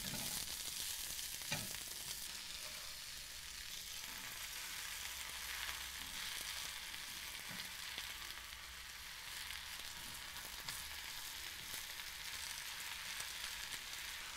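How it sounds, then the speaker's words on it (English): Baby spinach and shallots sizzle and fry steadily in a pan while being folded and stirred, a continuous close hiss with occasional soft scraping and stirring bumps throughout. "as it starts wilting, I'm just gonna keep folding in the rest of the spinach"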